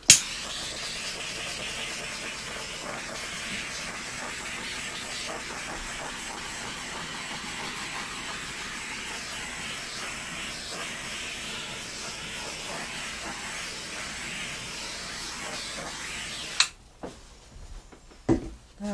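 A torch flame played over resin makes a steady, fairly faint broad hiss for most of the time, cutting off abruptly near the end, followed by a few small knocks.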